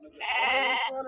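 A sheep or lamb at a weekly livestock market in Dubbaka, Siddipet, lets out one loud, sustained bleat of about a second, close by, with faint market noise at its edges.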